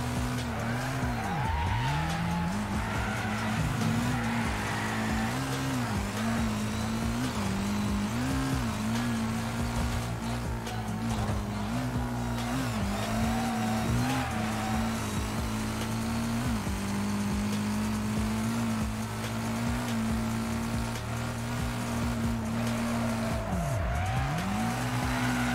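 Video game race car engine droning steadily with repeated tire squeals and skidding over a long stretch, loud and continuous without pause.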